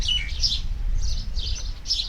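Several short, high partridge chirps in bursts over a low steady background rumble, fairly close.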